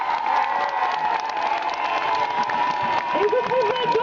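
A crowd at an anti-bullfighting rally in Paris applauds and cheers, with sustained clapping and scattered shouts filling the air throughout.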